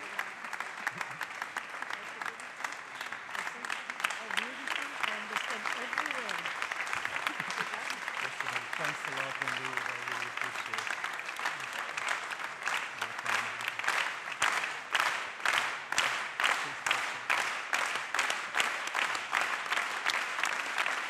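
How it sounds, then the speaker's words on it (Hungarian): Sustained audience applause at a Hungarian folk dance gala for gifted students, dense clapping filling the room throughout, swelling into sharper, more rhythmic clapping toward the end, with faint voices underneath. "Hölgyeim és uraim, köszönjük szépen a tapsot, ami egyfelől talán szólt Pál Csabának"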